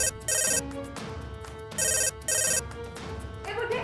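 A phone ringtone plays in loud repeated bursts with brief gaps, a melodic electronic ring dominating the sound.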